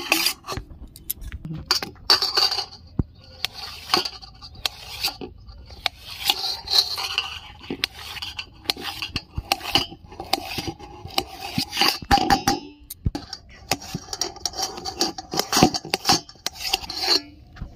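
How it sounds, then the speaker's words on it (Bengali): Boiled potatoes are cut into pieces with a knife, producing repeated sharp clicks and scrapes of the blade against a plate or board in an irregular rhythm, close and fairly loud, with no talking. "সেদ্ধ করা আলুগুলো আমি পিস পিস করে কেটে নিচ্ছি।"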